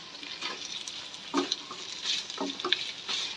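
Chicken pieces fry in oil with turmeric while a utensil stirs them, producing a continuous close sizzle with irregular scraping and clattering strokes against the pan, and no voices over it.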